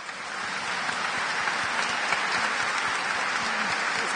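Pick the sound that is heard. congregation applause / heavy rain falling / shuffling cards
congregation applause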